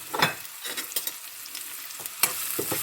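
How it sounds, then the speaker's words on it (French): Onions fry in sunflower oil in a pan, a continuous bright sizzle broken by several scraping stirs, close and fairly loud, with no talking. "donc on va d'abord faire cuire les oignons."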